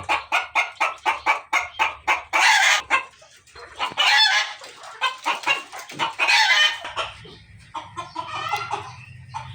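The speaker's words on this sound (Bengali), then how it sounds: "এ হলো আমার মুরগি" A mixed flock of Fayoumi, Sonali and local deshi laying hens clucks up close in quick rhythmic runs, then breaks into louder overlapping squawks and cackles, with a low steady hum underneath near the end.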